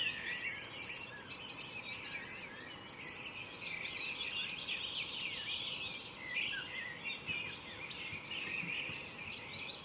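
A steady outdoor chorus of birdsong in the countryside: many overlapping chirps and trills, moderately near and continuous, with no voices.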